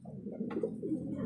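A racing pigeon coos softly and steadily, a low continuous murmur rising in a slight swell midway, close by and quiet with no talk.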